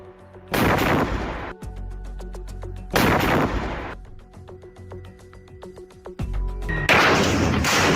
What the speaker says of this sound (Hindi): इसके कुछ ही सेकंड में टैंक में एक बहुत बड़ा ब्लास्ट होता है